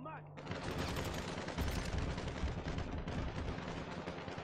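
Rapid automatic gunfire from a weapon in the PC game GTA Online, a dense, sustained barrage of bursts filling nearly the whole stretch after a brief quieter opening.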